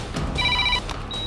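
A telephone rings in a short electronic double trill, two bursts close and clear over a faint background.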